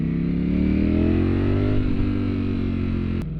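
A Ducati Streetfighter V4S motorcycle engine runs close by with a steady, loud mid-pitched drone that rises slightly in pitch, then eases back near the end.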